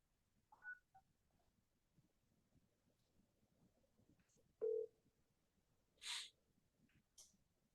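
A phone keypad beeps out a few scattered dial tones at a realtor's number, faint and sparse against a quiet room with soft breathing and small noises between presses.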